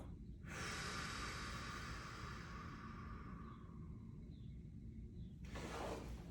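Slow, steady breathing for focused relaxation: a long inhale through the nose followed by an extended exhale through the mouth, close and clear, with no talk over it.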